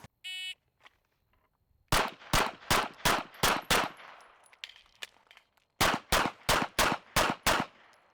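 Pistol gunshots during handgun shooting practice: a loud burst of six rapid shots, a pause, then six more in the same quick, even rhythm, each sharp crack trailing off into short echoes.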